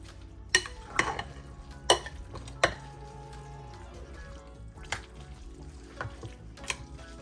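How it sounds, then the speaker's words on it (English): A chicken spaghetti casserole mixture is stirred in a dish, giving scattered sharp scrapes and clinks over a soft, wet mixing sound, close and fairly quiet. "Let's mix it up well."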